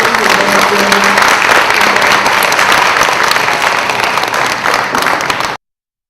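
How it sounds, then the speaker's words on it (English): Audience applause for distinguished guests at an international leadership alumni conference panel, a full, loud, sustained round of clapping with faint voices underneath, cutting off abruptly near the end. "just a wonderful applause for our distinguished guests who share their experience and their doing"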